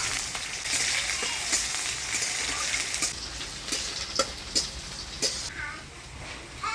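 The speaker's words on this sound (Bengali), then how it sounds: "এবার ডালের মধ্যে ফোড়ন দিয়ে দেবো শুকনো লঙ্কা, কালো জিরা, থেতো করা রসুন আর কুচানো পেঁয়াজ।" Dry chili, black cumin, crushed garlic and chopped onion frying in oil for a lentil tempering, giving a steady close sizzle with occasional stirring scrapes and utensil clicks toward the end.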